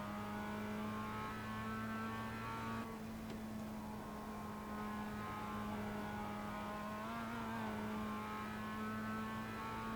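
A race car engine holds a steady high drone at full throttle, with rich harmonic whine and a brief dip and rise in pitch partway through, continuous and fairly distant, with no talking.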